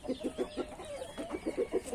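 Young hens drinking water in a farmyard cluck in a quick rhythmic series of soft, close pulses, pausing briefly midway before resuming.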